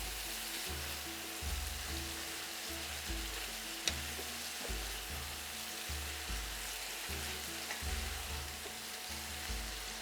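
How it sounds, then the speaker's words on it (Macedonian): Leek and bacon fry over lowered heat in a pan with a steady, gentle sizzle throughout and one sharp tap partway through, with no voices. "празот треба да се пржи на помала температура, да не изгори"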